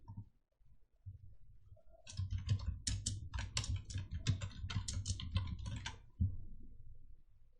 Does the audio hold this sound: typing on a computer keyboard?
yes